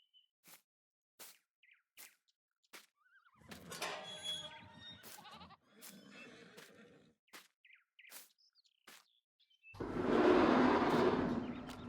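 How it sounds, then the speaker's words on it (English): A brown goat in Farming Simulator 19 bleats in short repeated calls, near and clear, with a longer wavering bleat, then a burst of louder farm noise at the end. "let's go ahead and get a brown goat"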